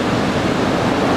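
Surf about one to one and a half metres high breaking along a beach on a morning session, a steady, dense wash of crashing water filling the whole moment with no voices.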